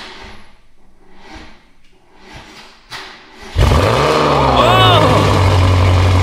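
A BMW M5 built as a budget competition car, fitted with a Remus exhaust and Evolve piping, fires up with a sudden very loud roar and holds a heavy, steady idle after a few seconds of quiet shuffling and a brief exclamation.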